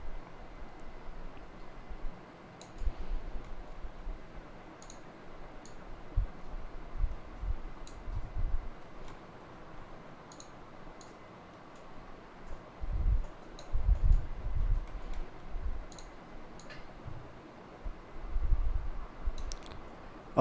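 Quiet, sparse mouse clicks tick at irregular intervals while someone works in an Excel spreadsheet, with a few soft low thumps and little else in the background.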